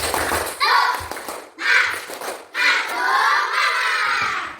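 A group of children clap and shout together in loud, rhythmic bursts, with the voices rising and falling in a chant-like pattern.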